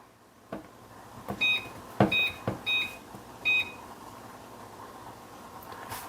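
A microwave's timer is being set, giving several short high beeps in an irregular run with soft clicks between the presses, heard up close in a quiet kitchen.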